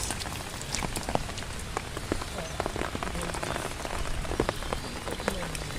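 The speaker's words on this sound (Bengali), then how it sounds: "অনেক পরিমাণ বৃষ্টি হচ্ছে অনেক অনেক" Heavy monsoon rain pours steadily on a primitive village canal area, a dense continuous patter with frequent close drip splashes, loud throughout with no talking.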